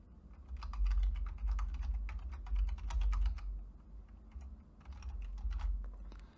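A password is typed on a computer keyboard at a desktop login screen: quick, close clicky keystrokes come in two bursts with a short pause between them, and there is no speech.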